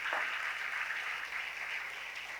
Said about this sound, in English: kindly give her a huge round of applause